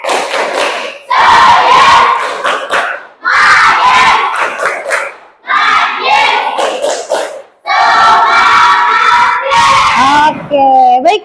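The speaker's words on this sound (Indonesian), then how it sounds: "Coba tepuk semangat" A class of seventh-grade children shouts a loud, rhythmic spirit chant with clapping in an Indonesian classroom, four energetic bursts separated by brief pauses, voices in unison filling the room.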